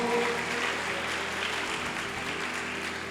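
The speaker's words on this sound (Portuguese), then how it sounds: "dê mais um aplauso bem forte ao Senhor" A congregation claps for the Lord during a live evangelical church service, a broad even wash of applause over a low sustained music bed, steady and fairly loud throughout.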